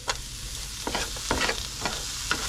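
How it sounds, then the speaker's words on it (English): A spoon stirs butter, meat juices and pepper in a hot pan, giving several soft scraping strokes over a steady close sizzle. "Just give it a light stir, just break it up a little bit"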